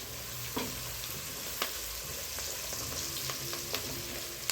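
Chicken frying in a pan sizzles steadily and loudly while a utensil stirs it, leaving periodic scraping clicks over the continuous crackle.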